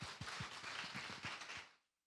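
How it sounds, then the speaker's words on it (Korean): A church congregation at a Friday worship service breaks into a burst of dense, overlapping hand clapping that sounds somewhat distant and fades away quickly at the end. "하나님께 영광의 박수 올려드리겠습니다"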